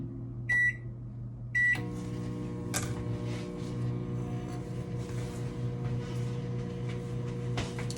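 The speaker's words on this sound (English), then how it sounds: "I'm going to use my microwave in 30-second intervals" Two short beeps sound, then a door thumps shut and a microwave oven starts, humming steadily with a low whir.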